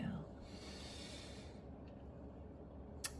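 A person takes one slow, deep inhale during a breathing exercise, a quiet airy hiss lasting about a second before fading into near silence.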